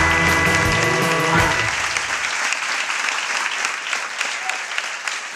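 Sustained applause and cheering from a theatre audience at a premiere, loud and dense, with music fading out at the start before the clapping carries on alone.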